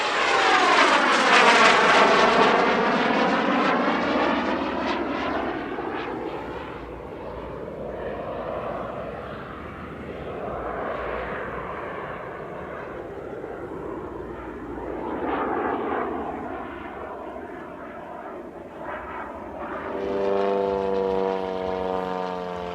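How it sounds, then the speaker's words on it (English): An L-29 jet trainer sweeps through a tight, fast 360-degree turn at the Leszno airshow, its loud engine roar rising, fading and returning with clear Doppler shifts as it circles overhead. "That is just about the fastest 360-degree turn I've ever recorded from a jet-powered aeroplane"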